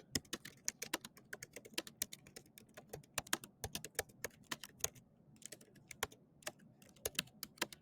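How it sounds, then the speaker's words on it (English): Rapid, irregular typing on a computer keyboard, a steady stream of close, crisp key clicks with a brief pause midway, no voices. "you're going to type some information in here about experiences you've had when light has carried energy"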